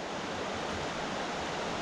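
Small stream water tumbling a couple of feet into a pool in a Great Smokies creek, a steady close broadband rush and splash that holds evenly for the whole stretch with no voices.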